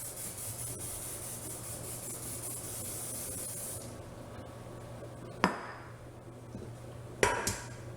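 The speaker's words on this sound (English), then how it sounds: "olive oil cooking spray is all I have, so I'm gonna spray that." A steady aerosol hiss of olive oil cooking spray into a pan runs for several seconds, then stops, followed by a couple of sharp clatters close by.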